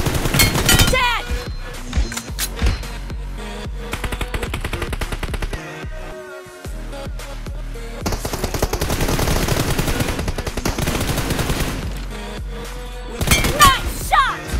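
PUBG Mobile gameplay with loud bursts of rapid automatic gunfire and single shots that come in long rattling volleys, broken by a brief lull, while voices and game sounds mix in.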